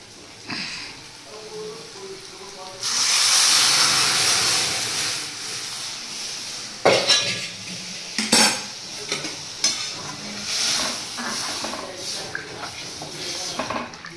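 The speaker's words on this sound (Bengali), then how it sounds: "ডালটা সম্বুরবো" Boiled masoor dal is tempered in a hot pan with turmeric: a loud hissing sizzle surges as it hits the oil, followed by scraping stirs and clinks of a metal spoon against the pan, close by.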